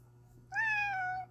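A single cat meows once, close and clear, a drawn-out tonal call lasting under a second over a quiet room with a low steady hum.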